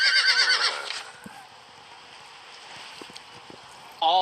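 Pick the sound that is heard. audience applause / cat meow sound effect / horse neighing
horse neighing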